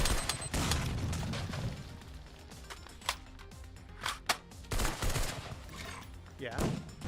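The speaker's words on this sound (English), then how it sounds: "Oh, that's a grenade." Explosive bursts and rapid gunfire from a VR shooter game, including a grenade blast, loud and close, with sharp, irregular cracks and booms and a voice talking faintly underneath.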